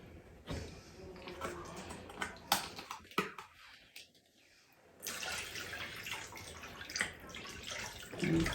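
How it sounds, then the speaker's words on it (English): Vegetable broth poured into a soup pot for a spicy couscous tomato soup, a soft watery splash and trickle that pauses briefly midway, then resumes at a quiet, close level. "Add the vegetable broth"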